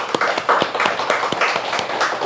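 A church congregation during a sermon claps together in a quick, steady rhythm, fairly loud and close, with no voices over the clapping.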